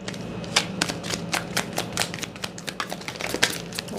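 A tarot deck being shuffled by hand, a rapid, close run of crisp card riffles and flicks with uneven rhythm, no voices.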